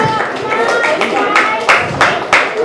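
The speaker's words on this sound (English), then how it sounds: "One more round of applause for these guys." A crowd applauds at an outdoor appreciation ceremony in a park, bursts of close clapping rising and falling, with talk over the top.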